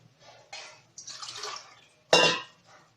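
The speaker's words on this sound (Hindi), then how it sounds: "ये देखिए आपके सामने इसमें हम पानी डाल रहे हैं" Water, about a glassful, is poured into a beef karahi pot on the stove in a few short splashing bursts, the last one the loudest, with no voices.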